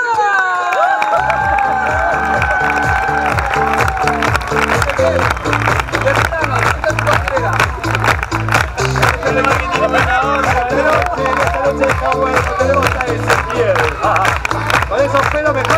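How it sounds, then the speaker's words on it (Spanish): Live circus audience in an open-air forest amphitheatre cheers and claps steadily for a performer, a dense, continuous wash of applause and shouts with voices mixed in throughout. "fuerte el aplauso para el señor Ezequiel"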